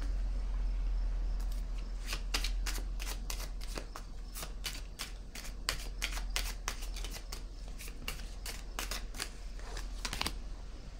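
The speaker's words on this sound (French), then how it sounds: "Attendez, je vais piger une autre carte ici." A deck of cards is shuffled in a steady, rapid run of crisp riffling snaps and then a card is drawn, moderately loud and close against a faint background hum, with no talking.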